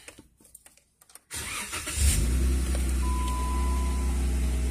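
Jeep engine cranking briefly and catching, then settling into a steady low idle that continues with a faint tonal hum, heard fairly close after a few quiet clicks.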